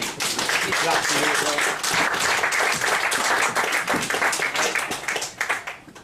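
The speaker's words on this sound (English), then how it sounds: "Give them a round of applause." Audience applause at a comedy mentalism stage show, as volunteers are called up, with dense steady clapping from a crowd that fills the whole stretch and tapers off at the end, with voices mixed in.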